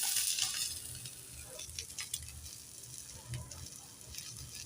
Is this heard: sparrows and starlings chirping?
no